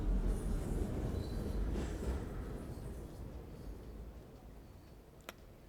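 In Train Sim World 6, a train passes on the opposite track as a steady rail rumble that slowly fades, with a brief sharp tick near the end and no voices.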